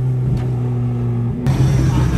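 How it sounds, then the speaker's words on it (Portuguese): A Camaro's engine drones steadily, then surges louder as it revs up partway through, with voices faintly mixed in. "acelerando só, olha lá"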